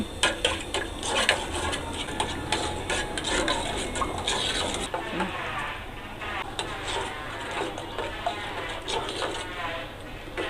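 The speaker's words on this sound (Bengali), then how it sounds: "দিয়ে এটা নাড়তে থাকা লাগবে" Coconut pudding mixture with agar agar is stirred steadily in a pot on the stove, a continuous scraping and sloshing of spoon against metal with soft clicks, running close and moderately loud throughout.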